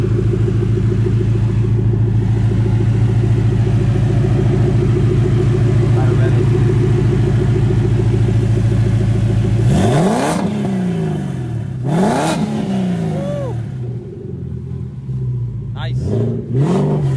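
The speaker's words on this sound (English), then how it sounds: "So it sounds like a regular Mustang." A turbocharged Ford Mustang idles with a loud, steady low rumble, then revs sharply several times, each rev rising and falling quickly, heard close up.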